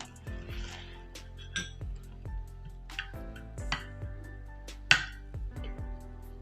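Melted butter is stirred into a bowl for a coconut dessert, the utensil repeatedly clinking and scraping against the bowl in an uneven rhythm of close, quiet taps and one sharper knock, with no talking.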